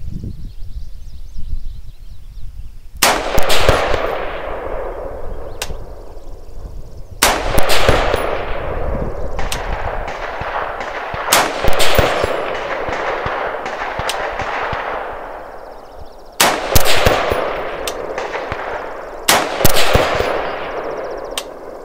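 An AR-15 pistol fires loud, sharp shots one at a time at an outdoor shooting range, each crack followed by a long ringing echo, with pauses of several seconds between shots.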